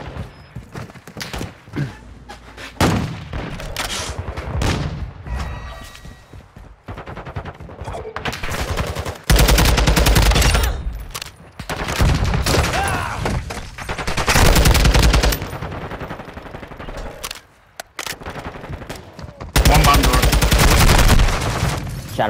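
Repeated gunfire in the video game Call of Duty: Modern Warfare II, loud bursts of automatic shots split by short pauses, in a Hardpoint multiplayer match.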